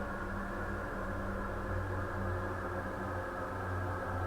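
A steady, low synthetic space drone from a VST hums with airy hiss on top, droning evenly without pauses.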